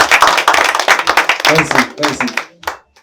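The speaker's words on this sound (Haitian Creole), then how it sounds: "Applaudissez." Church congregation clapping in applause after the pastor introduces his wife, loose rapid claps mixed with voices and talk, fading out near the end.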